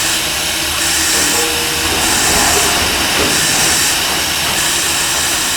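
A fire hose nozzle opened wide at a fire department training event, spraying water toward a ceiling in a loud, continuous, close hiss and roar that holds steady throughout, with no talking.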